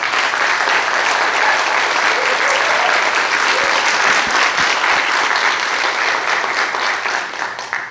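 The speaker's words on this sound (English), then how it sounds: "let's start off with a big welcome applause for our 2 candidates tonight" Sustained applause from an audience welcoming two judicial candidates at a county forum, dense and loud from start to finish, tapering slightly at the very end.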